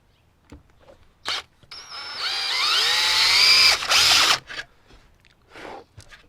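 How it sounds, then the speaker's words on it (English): A power drill bores a hole through car body sheet metal while anchoring a ground point for aftermarket angel eye headlights on a BMW E-series; a close, loud whine runs about two seconds with short bursts before and after. "So I have a drill bit and a machine screw. I'm going to drill a hole through here"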